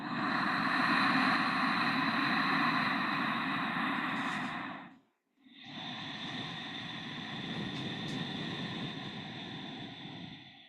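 Slow nasal breathing right against the microphone during a restorative yoga session: one long airy inhale, a brief silent pause, then a long, steady exhale, loud and close with no talking.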